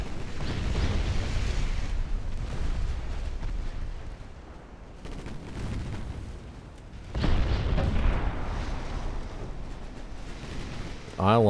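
Torpedo hits and explosions in the naval warfare video game Ultimate Admiral: Dreadnoughts, with a sustained low rumble of booms that swells, fades and swells again, loud and distant-sounding, with someone speaking over it.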